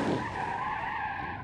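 A car's tires skid on ice in the BeamNG Drive driving game, a steady, loud squealing screech that holds for about a second and a half with no voices over it.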